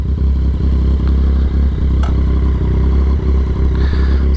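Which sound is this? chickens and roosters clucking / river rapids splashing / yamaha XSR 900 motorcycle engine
yamaha XSR 900 motorcycle engine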